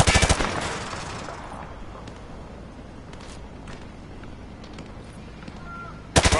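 Hip-fired automatic gunfire from a video game, a dense rapid burst that opens loud and up close, then trails into scattered distant shots and rumble before another loud burst erupts at the end.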